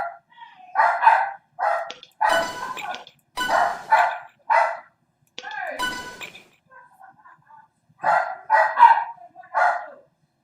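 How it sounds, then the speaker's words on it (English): A dog barks repeatedly indoors in a home, a string of sharp, fairly close barks coming in short bursts with brief pauses, mixed with some low background noise and a few clinks. "You can hear my dog bark."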